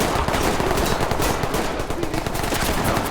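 Dense, continuous gunfire from the Ready Or Not video game, rapid automatic bursts and shots, loud and unbroken, with no talking.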